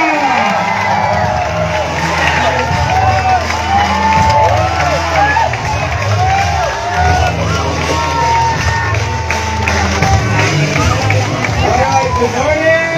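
A large crowd at an indoor business event claps and cheers continuously, a dense, loud, sustained wash of applause and shouts mixed with hubbub and a voice calling over the top.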